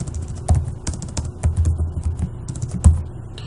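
Computer keyboard keys tapped in quick irregular bursts while entering a project name, close and fairly loud, with brief pauses between clusters of clicks and no speech.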